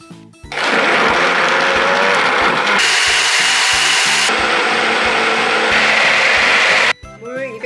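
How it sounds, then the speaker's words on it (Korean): A blender whirs loudly and steadily for several seconds, blending a soup of sweet pumpkin, potato, fried onion and milk, its pitch shifting as it churns, then cuts off abruptly near the end. "자, 이제 믹서기에 갈아줄게요"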